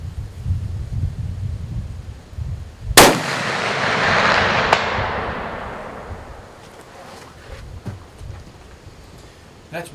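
A single loud rifle shot cracks out at a long-range steel target 444 yards away, followed by a long rolling echo that fades over several seconds outdoors, with faint wind and background noise around it.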